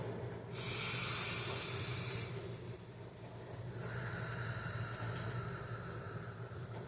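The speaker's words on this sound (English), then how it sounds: "let's pause and breathe for a moment" Deep, slow breaths taken during a pause in a self-soothing exercise: a long airy exhale, a short lull, then another sustained breath, close and fairly loud, with no talking.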